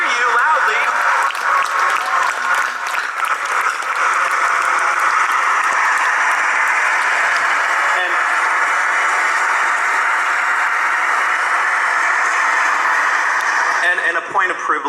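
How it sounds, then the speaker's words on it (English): A large baccalaureate audience delivers a sustained round of applause, a broad, loud wash of many hands clapping that continues without pause for nearly fifteen seconds, slightly distant and hall-like. "let's give a big round of applause to all those people up there so they can hear you loudly"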